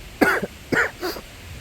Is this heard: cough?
yes